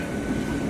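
A nearly empty passenger train pulling into Panskura station gives a brief, loud, steady rumble of wheels and carriages, close by and without voices.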